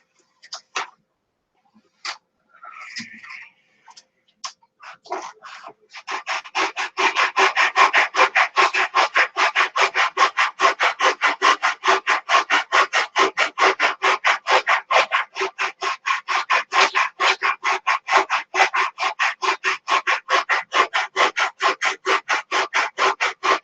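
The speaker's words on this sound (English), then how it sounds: "we better need to sand on that a little bit" Hand sanding on wood: after a few scattered taps and rubs, fast, even back-and-forth strokes of sandpaper take over and continue steadily, loud and close, with no speech.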